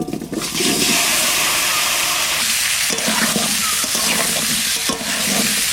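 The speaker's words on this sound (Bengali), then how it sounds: "এবার আলু কটা ভেজে নেব" Washed potatoes frying in hot oil in a pan in a home kitchen, a loud continuous sizzle with hissing bursts and occasional stirring, close up with no talk.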